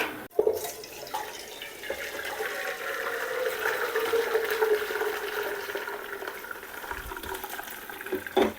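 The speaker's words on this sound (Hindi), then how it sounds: "तो अब मैं इस यखनी को छान लूँगी।" Homemade chicken stock with carrot being strained, a steady pour of liquid running for several seconds with a faint clink at the start and near the end, no talking.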